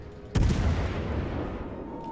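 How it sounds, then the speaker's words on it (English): A single heavy naval gun blast in World of Warships hits abruptly, then a long booming rumble decays slowly, loud and close with no talking. "Shima's even shooting at me."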